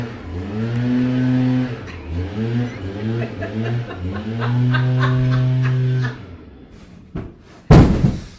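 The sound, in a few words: furniture knocked over by someone laughing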